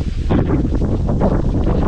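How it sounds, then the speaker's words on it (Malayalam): Strong wind buffets the microphone on a hilltop at about 4,000 feet at Kurisumala, Vagamon, a loud, steady roar with gusty low rumble throughout and no speech. "നല്ല കാറ്റ് എന്ന് പറഞ്ഞാൽ നല്ല കാറ്റാട്ടോ"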